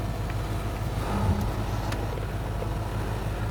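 A car pulls out for a short ride around the neighborhood, heard from inside as a steady low engine and road rumble with faint airy noise and no talking.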